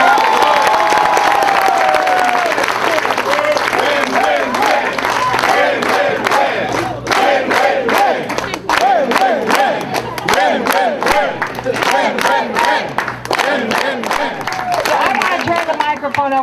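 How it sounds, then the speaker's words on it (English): A rally crowd at a 2010 get-out-the-vote bus tour stop erupts in loud applause and cheering, dense clapping with shouts and whoops, sustained and close throughout. "So let's give them a loud round of applause."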